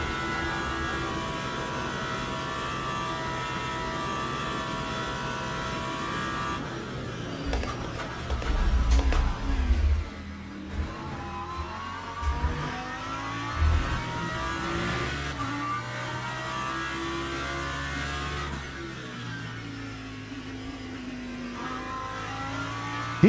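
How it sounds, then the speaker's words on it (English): An LMP3 prototype race car's engine in the sim racing game Le Mans Ultimate drones steadily under a GT3 car's own engine, with a louder surge midway as it closes in and passes. "there's an LMP3 behind me"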